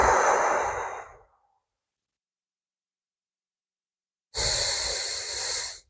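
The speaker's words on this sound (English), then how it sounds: "Long exhale through the nose and long exhale via the mouth." Two long, steady exhalations through the nose and mouth, each lasting over a second, separated by a few seconds of silence during a postpartum core-healing breathing exercise, close and fairly loud with no speech.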